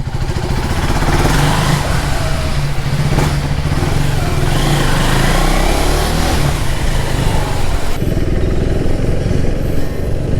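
A 2024 KTM Duke 390 Gen 3 motorcycle engine runs steadily and loud throughout while riding, with a constant mid-pitched drone and wind rush, and no talking.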